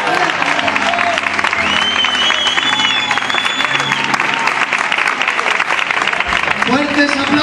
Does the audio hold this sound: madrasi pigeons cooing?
no